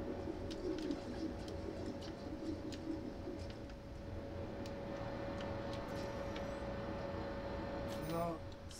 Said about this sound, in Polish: To na pewno są gołębie